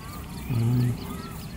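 A swan family with young on a lake at Jells Park gives one brief, low, honking call midway, standing out over a soft outdoor background.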